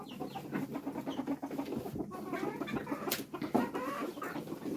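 Backyard chickens cluck inside a new coop, a busy overlapping chatter of soft clucks and murmurs from several birds close by, with occasional sharper calls.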